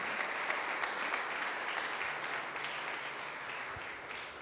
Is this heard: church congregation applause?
yes